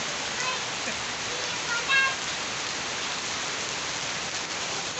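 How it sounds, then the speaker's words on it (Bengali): Steady, dense rainfall pours down heavily and evenly, a loud continuous hiss with a faint voice briefly audible midway. "দেখেন পুরা জোরে বৃষ্টি পড়তেছে।"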